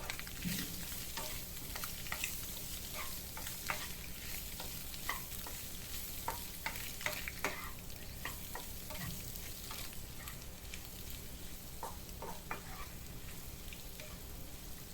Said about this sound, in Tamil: இதோட மஞ்சள் கருவையும் போட்டு இதையும் நம்ம நல்லா எல்லாத்தோடு சேர்த்து ஃப்ரை பண்ணிக்கலாம்.